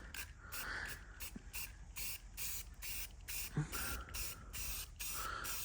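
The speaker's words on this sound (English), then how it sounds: "we're gonna go ahead and throw a little bit of paint on here" Spray paint hissing onto the Lexan rear window of a Honda Civic, a steady close hiss broken into short bursts with brief gaps, a light first coat going on.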